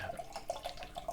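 Axe Edge IPA from Buxton Brewery pours from a can into a glass, giving a quiet, steady glugging and fizzing trickle with small splashy pulses, close and alone without talk.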